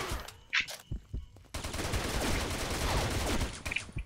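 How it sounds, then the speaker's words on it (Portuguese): Sustained gunfire from a shooting game set in a dark forest, opening with a few scattered shots before a dense, loud, continuous barrage from about 1.5 seconds onward, with no talk. "tô atirando"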